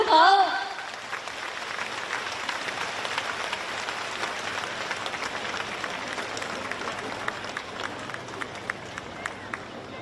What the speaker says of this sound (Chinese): 下面让我们用最热烈的掌声恭请尊敬的卢军红台长为